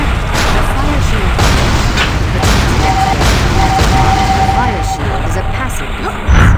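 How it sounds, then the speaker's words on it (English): A continuous rumbling, crackling rush of fireballs streaming from a deadly trap in The Wheel of Time (1999), steady and dense with layered booms, heard under a narrating voice. "A stream of fireballs prevents anything from going through."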